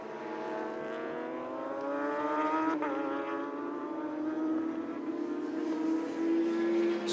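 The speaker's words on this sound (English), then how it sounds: "We have 4 non-starters in the end, 10 bikes on track at the moment, and Farid Badrul" A superbike races on track at a 2017 Malaysia Superbike Championship round, its high engine whine rising steadily in pitch as it accelerates, heard at moderate distance without any talk.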